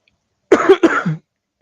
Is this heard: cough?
yes